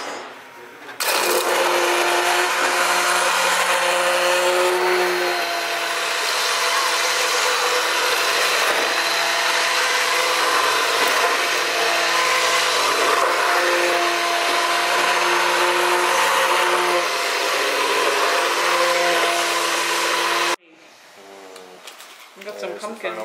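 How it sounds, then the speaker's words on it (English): A hand blender purees pumpkin soup made with evaporated milk, a loud steady motor whir running continuously for about twenty seconds before cutting off abruptly, followed by faint background noise. "the best thing, the hand blender."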